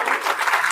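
Brief burst of applause from a crowd at an RCM business motivational seminar, a dense, even rattle of many hands clapping for under a second with no talk over it.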